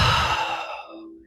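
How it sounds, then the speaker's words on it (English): A single audible exhale during a yoga knee drive exercise, a breathy sigh that starts strong and close and fades out within about a second. "Exhaling as you do your knee drive."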